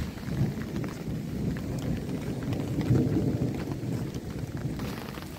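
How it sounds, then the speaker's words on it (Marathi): Heavy rain pours steadily in the American outdoors, a dense continuous hiss and patter with low rumbling underneath, even in level throughout, and no voices. "पाण्याचा वेग किंवा पावसाचा वेग तो आता इतका नॉर्मल झालेला आहे"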